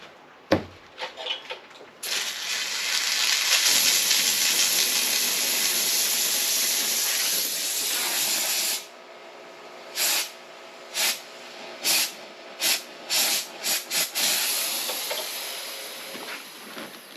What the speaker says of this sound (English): let me see if I can get that out with the newer steamer